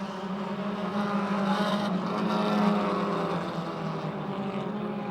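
Race cars speed around the banked oval at Motordrome Speedway, their engines merging into a steady droning roar that swells and fades slightly as the pack passes, heard from a distance with no talk.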